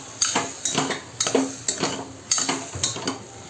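Drumsticks (moringa pods) being fried and stirred in a pan for sambar, with a series of close metallic scrapes and clinks of a spoon against the pan over a faint sizzle, repeating at irregular intervals.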